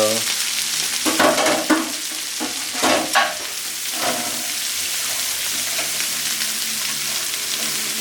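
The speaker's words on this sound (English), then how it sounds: "I'm gonna saute this and set it for about 8 or so minutes." Chopped garlic sautés in a pan for vegan bulgogi with a steady, close sizzle. A few louder stirring scrapes come early, then the frying hiss settles and continues alone.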